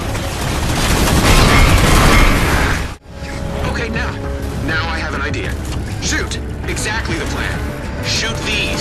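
Gunfire in the Halo 4 Spartan Ops mission, loud dense bursts of shots over a busy battle soundscape, a sharp cutoff near three seconds, then continued mechanical combat noise under a voice.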